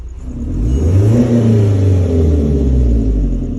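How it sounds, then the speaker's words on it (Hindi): Toyota pickup engine with a fault revving up from an idle near 800 rpm, a loud, steady close-up rumble that climbs and holds for several seconds with no talking. "ये इसके 800 आरपीएम है और यहाँ से मैं रेस देता हूँ।"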